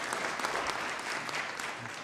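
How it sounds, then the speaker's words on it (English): Steady applause at a Columbus city council meeting for the newly welcomed city auditor, an even, moderately loud patter of many hands lasting throughout. "I think it's worth the applause"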